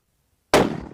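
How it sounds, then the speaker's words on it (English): A single sharp, loud rifle shot from a Thompson/Center Compass in .300 Win Mag fired without a muzzle brake, a sudden blast after silence that decays quickly with a short outdoor echo. "I'm going to shoot at the lower right target now without the muzzle"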